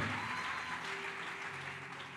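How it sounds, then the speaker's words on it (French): A church congregation claps together in steady, dense applause, a broad wash of many hands at fairly even loudness with a faint voice in the background. "Acclame pour le Seigneur."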